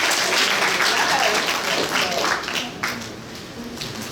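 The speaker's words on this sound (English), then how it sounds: "Can we get a clap to that?" An audience at a fashion week panel discussion applauds with dense, sustained clapping that gradually tapers off, with some voices heard beneath it.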